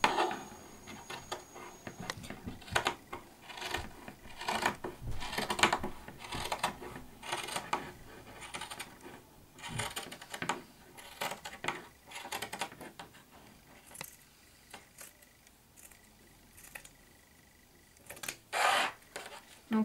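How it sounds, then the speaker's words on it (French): Scissors snipping and trimming the fabric corners of a bath towel, a quiet irregular series of crisp cuts and rustling fabric, close and faint. "Je vais prendre mon ciseau et dégarnir comme la capuche."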